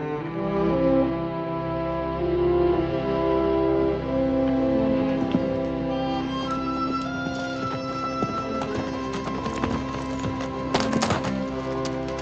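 Horse hooves clip-clop unevenly nearby over a steady tonal background, with scattered louder knocks toward the end.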